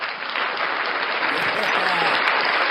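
Applause from a small audience, dense steady clapping that fills the short stretch at a fairly loud, even level.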